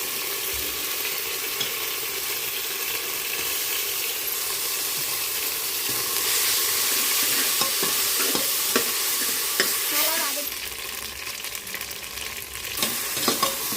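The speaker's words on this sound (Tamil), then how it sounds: "இஞ்சி பூண்டு கொத்தமல்லி புதினா முந்திரி இதெல்லாம் சேர்த்து அரைச்சி பேஸ்ட்டை வந்து நம்ம இப்போ சேர்த்துக்கலாம்." Ground ginger, garlic, coriander, mint and cashew paste frying in a pan for chicken biryani, a loud steady sizzle with a spoon scraping and stirring through it, no voices.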